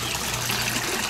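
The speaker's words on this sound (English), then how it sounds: "See all that water flying out of there?" Water from a small homemade aquaponics system drains rapidly through a siphon into the sump, producing a steady, close rushing trickle and gush that continues without a break and with no talking.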